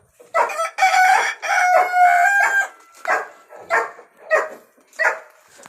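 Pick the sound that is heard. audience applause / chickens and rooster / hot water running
chickens and rooster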